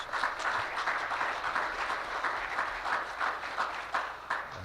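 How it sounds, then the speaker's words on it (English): Audience applause for award winners at a conference, steady broadband clapping from many hands filling the room at moderate level throughout, with no voices on top. "So a round of applause to those folks who were award winners."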